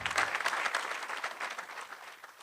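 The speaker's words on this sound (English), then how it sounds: "A round of applause, please." An audience at a town hall on Hage G. Geingob's governance legacy breaks into a short burst of dense applause that swells quickly and then tapers off.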